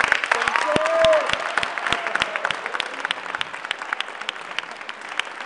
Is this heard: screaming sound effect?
no